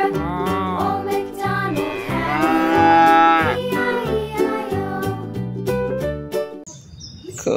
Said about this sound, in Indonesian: ini adalah sapi